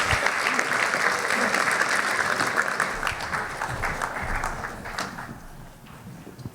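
An audience applauds as a panel walks up at an evening event, a dense, steady wash of clapping that holds loud for several seconds before easing off slightly toward the end.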